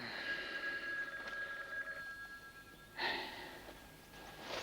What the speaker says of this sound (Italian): No, no, è il telefono, Carletto.